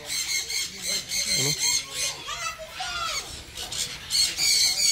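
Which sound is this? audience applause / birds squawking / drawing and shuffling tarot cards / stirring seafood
birds squawking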